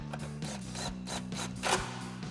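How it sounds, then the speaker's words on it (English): A 10mm socket ratchet tightening grille bracket screws on a 2013-2018 RAM 2500, with quiet repeated clicking ratchet strokes and light metallic rubbing, close up and without talk. "Now we'll bring back our 10mm socket. We're going to start with our center 2 10mm screws."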